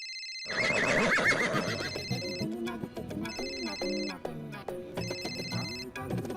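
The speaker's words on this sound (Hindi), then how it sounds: "कॉल वेटिंग की रिंग भी जोर से सुनाई देती है" A loud electronic call-waiting ringtone from a faulty phone repeats in bursts of warbling beeps, with sporadic chirpy tones in between and no voices.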